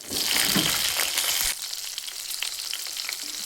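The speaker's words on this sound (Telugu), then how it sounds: "మంచిగా ఫ్రై చేసుకుందాం." Green chillies and onion hit hot oil in a pan with a loud, broadband sizzle that drops to a steady, softer crackle after a moment, close and alone without voices.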